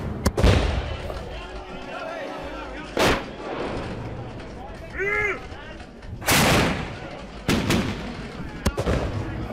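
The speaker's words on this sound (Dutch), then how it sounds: "De kanonnen worden op scherp gezet." Cannons fired by citizen militias from high points in Utrecht toward Vredenburg castle: several loud, booming shots spaced a few seconds apart over a continuous noisy background, with a brief shout between blasts.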